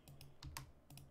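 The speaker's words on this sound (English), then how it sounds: "I don't know why I'm having so much trouble putting my fingers on the right keys." Fingers tap keys on a computer keyboard at a desk in a few quick clusters of soft clicks, close up and quiet, with no talking.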